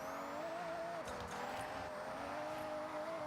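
Racing engine tone under tire squeal as a car drifts in GTA Online, a steady continuous whine with a sliding pitch and no break across the few seconds.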